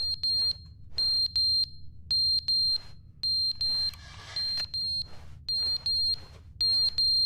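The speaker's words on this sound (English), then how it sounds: "Oh, the alarm." Electronic alarm in The Stanley Parable: Ultra Deluxe, repeated bursts of high shrill double beeps in a steady rhythm over a low hum, with a brief rushing swell midway.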